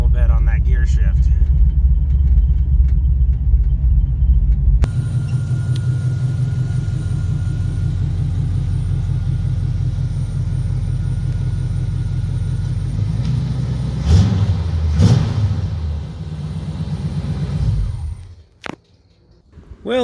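A 1974 Oldsmobile Omega engine rumbles loud and close as the car drives into a garage, a heavy low idle and revving with a brief surge near the end before cutting out, with people talking over it.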